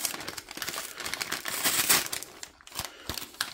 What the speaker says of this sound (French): de toute façon je vais le déchirer